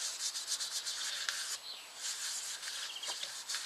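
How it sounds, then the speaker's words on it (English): Glue being rubbed by hand into a turned yew wood bowl and its cracks, a steady close scratchy rubbing with short strokes that continues without pause and with no speech. "I'm just going to rub it all in the bowl and into the cracks"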